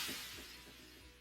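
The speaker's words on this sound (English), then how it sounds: "You hear the sound of the glass break" A brief, faint burst of shattering glass, the opening of Stone Cold Steve Austin's wrestling entrance theme, rings out and decays over a second.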